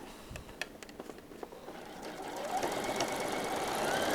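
Sewing machine stitching a flying geese quilt block, a close, fairly quiet mechanical whir that starts with scattered clicks and then settles into a steady run, with no talking.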